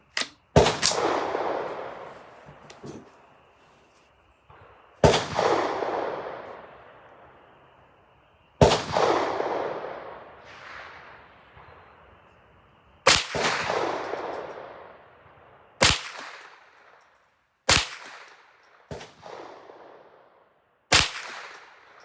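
Ruger 10/22 rifle with an ATI stock firing Browning ammunition at a range, producing sharp, loud single shots at irregular intervals a few seconds apart, each followed by a decaying echo, with no voices.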